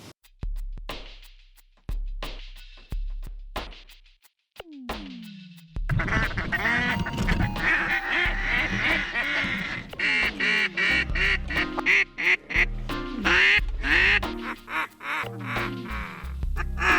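Ducks quacking during a fall duck hunt at Potholes Reservoir: dense, loud, close quacks and honks overlap continuously after a few sharp clicks at the start.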